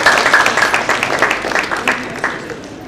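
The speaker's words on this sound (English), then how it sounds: "I think he deserves, a bigger round of applause" Crowd applause at a policy roundtable forum, a brisk patter of many hands clapping close by that gradually thins and fades, with a voice briefly audible over it.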